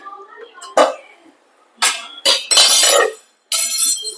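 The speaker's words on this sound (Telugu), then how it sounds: "ఓ స్పూన్లన్నీ కింద పడిపోతున్నాయి" Several metal spoons clatter and clink as they fall, in short bursts separated by pauses; close and sharp, with a cough-like sound among them.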